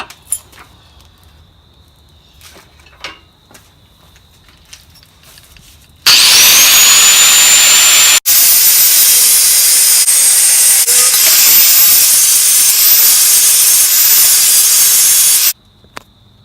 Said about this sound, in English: I'm gonna clamp it up in the vise and then go to town on it with an angle grinder